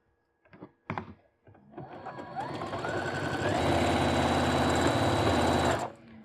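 A sewing machine stitches the seam of a hooded scarf, starting with a few short clicks and taps, then running steadily at a rising, even hum for several seconds before stopping abruptly.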